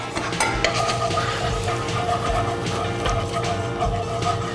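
A small pan handled on a stove while oil, butter and cream cook: metallic clanks and scrapes of cookware over a continuous low sizzle, close and fairly loud, with no speech.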